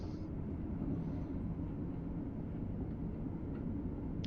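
A Class 807 train in Train Sim World 6 runs with a low, continuous rumble and drone that stays steady throughout and is heard alone.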